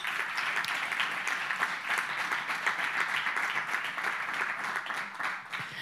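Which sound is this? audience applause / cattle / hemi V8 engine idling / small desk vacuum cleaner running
audience applause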